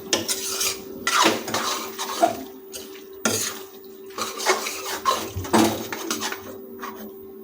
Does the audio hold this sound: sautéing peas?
yes